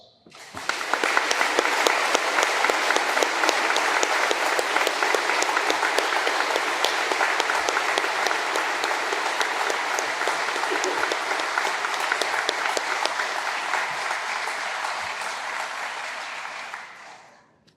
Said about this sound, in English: Now we can offer those applause.